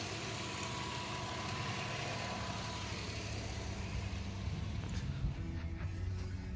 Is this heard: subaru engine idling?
yes